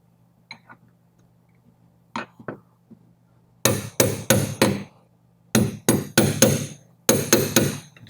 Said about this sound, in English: I'm going to take a hammer and a punch.